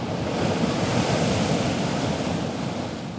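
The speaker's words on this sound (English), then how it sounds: "The crew would have to power through the choppy waves and relentless sea spray" Rough sea waves crash and churn continuously, with spray and wind buffeting the microphone in a loud, steady roar with no voices.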